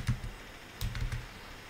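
Keystrokes on a computer keyboard while typing a search in Windows 11, a short burst of several clicks followed by a second quick cluster, close and moderately loud.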